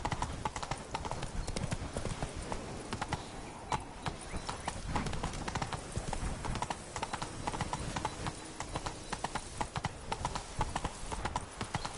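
Horse hooves from The Witcher 3 game in a steady rapid clip-clop gallop, loud and continuous throughout, with a brief whinny-like sound possible but no speech.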